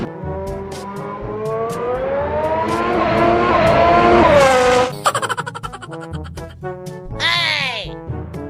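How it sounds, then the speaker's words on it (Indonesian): Formula 1 race car engine revs up in a long, loud, steadily rising whine, then breaks into a rapid stuttering rattle and another sharp rising whine, close and dominant throughout. "Di sini ada mobil balap F1 atau mobil Formula 1 teman-teman."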